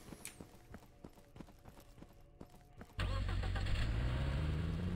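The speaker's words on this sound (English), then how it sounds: "There's my car, so we just drive the car back." Car engine cranking and catching in the video game Anarchy: Wolf's Law, a Stalker/Tarkov-style economic shooter, with a sudden loud steady idle roar kicking in after a few seconds of footsteps and clatter.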